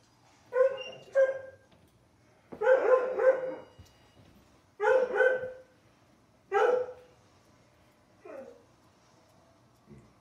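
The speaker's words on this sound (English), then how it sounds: "Yep, that's our dog." A pet dog barks in five or six short bursts, some doubled, spaced a second or two apart at close range, trailing off into quieter yips and whimpers.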